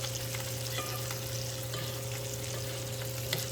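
Fish sizzles steadily in hot butter while it is basted in the pan, a constant, even crackle with faint spoon scrapes and no voices.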